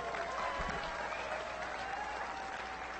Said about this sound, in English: the best way to thank them is to give them a big round of applause